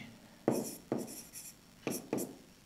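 Chalk or marker strokes on a classroom board during a physics lesson, four short scraping strokes in two pairs, close and fairly quiet, with no talking.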